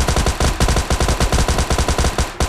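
Rapid automatic gunfire in a mobile battle royale shooter during a solo-versus-squad rush, loud close bursts of rattling shots with brief gaps, no talking.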